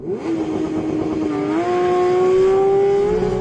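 A Porsche 911 GT3 launches hard from a standstill for a quarter-mile run with traction control and stability control switched off. The engine rises in a loud, close, continuous climb, its pitch sweeping upward as it accelerates.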